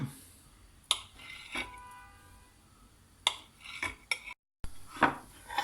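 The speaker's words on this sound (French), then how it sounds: "Là on se coupe des rondelles" A knife slices rounds on a cutting board in a few sharp, separate knocks with quiet pauses between, close and fairly crisp.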